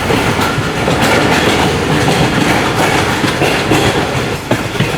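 The Karakoram Express runs near Karachi with a loud, continuous rumble and rapid rhythmic clickety-clack of wheels on rail joints, recorded from on board.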